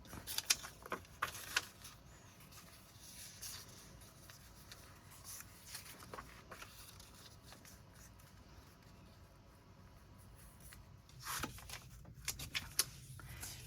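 Scissors slice through vinyl fabric folded double, a faint dry crunching and snipping at close range with quiet stretches between bursts of cuts.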